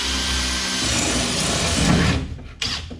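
A power drill grinds into steel-cored rivets on a boat hull, a close, loud whirring bite that strains and shifts in pitch before cutting off abruptly, then briefly restarting.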